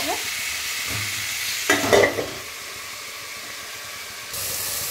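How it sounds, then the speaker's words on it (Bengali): Curry with turmeric fries in a pan, a soft continuous sizzle with a burst of stirring and scraping in the middle and hissing steam rising near the end, close up and without voices. "এরকম নাড়াচাড়া দিয়ে এই নাড়িয়ে নিয়ে ঢাকা দিয়ে দিব"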